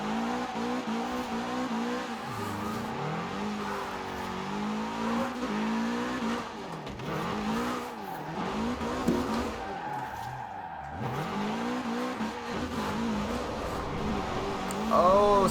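A race car in Forza Horizon 4, driven on a Thrustmaster wheel rig, skids and spins out, engine revving and wavering over continuous tire squeal, with someone talking over it.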